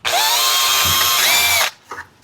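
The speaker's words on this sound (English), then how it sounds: "Drill, take a smaller drill bit. Line it up. Put a hole right here." Power drill running a smaller bit through a hole in a DIY kayak crate build, a loud steady whine with rising pitch that lasts about a second and a half, then stops abruptly, followed by a brief faint clatter.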